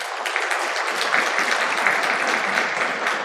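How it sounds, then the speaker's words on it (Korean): A church congregation applauding to welcome a visiting family, a dense, even wash of clapping that holds steady from start to finish. "박수로 환영하겠습니다."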